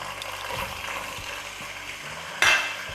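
Mutton mince sizzles in a hot pan while cooking Nargisi keema, a steady crackling hiss with soft scraping and stirring clicks and a brief louder burst of sizzle near the end.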